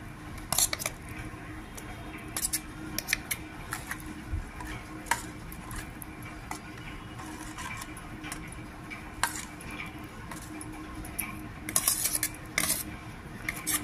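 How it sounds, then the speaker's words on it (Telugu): A spoon stirring onion pieces into pachi pulusu in a metal pot, with repeated clinks and scrapes against the vessel in uneven bursts, close and clear with no talking. "ఈ ఉల్లిపాయ ముక్కలు కూడా ఇందులో మిక్స్ చేసేసుకోవాలి."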